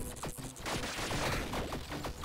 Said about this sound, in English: I'm just shooting into the darkness.